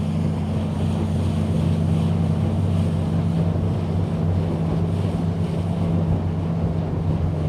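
A bass fishing boat's motor speeds up on Lake Guntersville, droning loudly and continuously with a low, steady hum, while wind and water rush over it.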